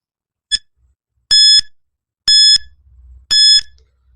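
A quiz countdown timer alarm effect sounds as four bright, ringing electronic beeps: a short first chirp followed by three longer, evenly spaced tones, loud and clear with nothing else around them.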